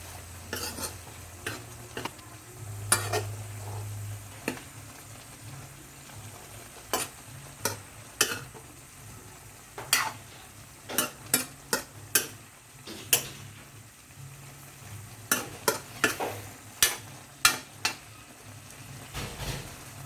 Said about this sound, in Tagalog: Tapos, syempre, haluin natin.